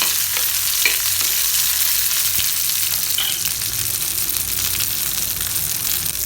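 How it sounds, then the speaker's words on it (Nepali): Garlic, onion and ginger sizzle and fry loudly in a pan, with steady crackling hiss and occasional scraping stirs close up, with no voices. "एकछिन चलाउनु पर्छ है फेरि।"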